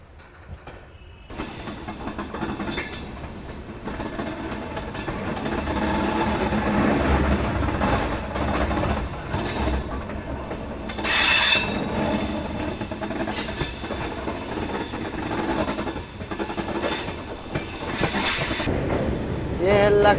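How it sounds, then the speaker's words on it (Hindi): Amrit Bharat Express pulling out of Aishbagh Junction in Lucknow, a loud steady rumble of wheels and carriages building from near silence, with rhythmic clatter and brief squeals over the rail joints, heard from on board. "और ऐशबाग जंक्शन से अपना डिपार्चर।"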